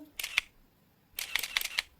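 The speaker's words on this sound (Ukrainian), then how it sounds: "клацання фотоапарату" Two camera shutter clicks, then a burst of four quick clicks after a pause, crisp and close.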